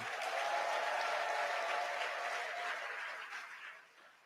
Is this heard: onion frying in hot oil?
no